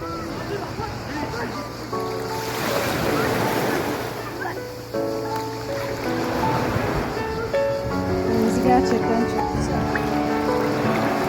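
Light sea waves wash steadily against the shore of a bay at Erdek, a broad continuous surge with musical tones playing over it throughout.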